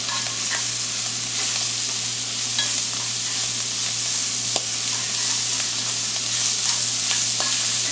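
Seasoned vegetables being stirred in a pot while making Louisiana chicken and smoked sausage jambalaya, with a steady sizzle and soft scraping strokes under a constant low hum, no talking.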